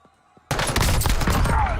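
Gunfire erupts in a Call of Duty match after a near-silent lull, a loud burst of rapid overlapping shots that keeps going to the end.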